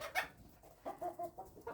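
Chickens cluck inside a coop being readied for winter, a quick series of short, close clucks with small gaps between them and no one talking.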